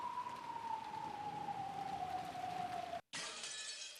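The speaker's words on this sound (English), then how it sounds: "Glass break!" A glass breaking sound effect from the Umineko visual novel cuts in suddenly after a sustained steady tone over rain-like hiss, bursting into a loud bright shatter.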